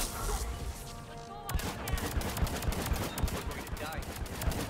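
Rapid bursts of gunfire ring out in the Mass Effect 3 video game, dense repeated shots over a busy mix of game sound effects, with some talk underneath.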